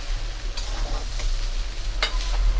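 Dalia with turmeric and salt stirred and fried in a pan, a close, continuous sizzle with intermittent spoon scrapes and one sharper clink, no one speaking.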